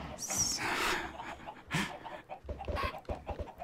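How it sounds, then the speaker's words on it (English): Chickens clucking in the Minecraft video game, a few short clucks and squawks in close succession, moderately loud over faint background game sounds, with no talking. "I'm adding more chickens."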